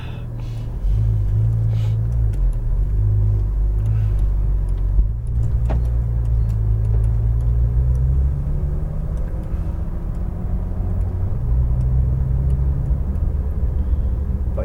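A Porsche 911 GT3 RS of the 991.2 generation pulls out at a Las Vegas driving track, giving a loud, close engine drone with shifting pitch and steady low rumble throughout, with no talking.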